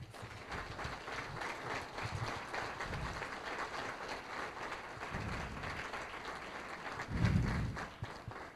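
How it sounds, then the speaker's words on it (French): A chamber of commerce audience at a candidates' debate applauds the candidates, fairly faint, steady clapping from a room of people lasting several seconds, with a few low thumps beneath. "J'aimerais ça qu'on ait une bonne main d'applaudissements pour nos candidats."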